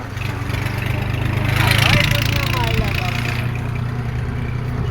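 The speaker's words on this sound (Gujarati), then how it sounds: "આ સૈરાનું ટ્રેક્ટર ભર્યું" A tractor engine runs nearby at a steady idle, a continuous low throbbing drone that swells briefly before settling, with a rising mechanical whine in the middle.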